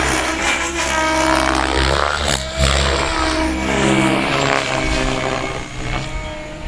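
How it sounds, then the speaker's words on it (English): An RC helicopter flies nearby, its rotor and motor producing a loud, steady buzzing whine with pitch shifts as it maneuvers, no talk over it. "The cool thing about this helicopter is how precise it is."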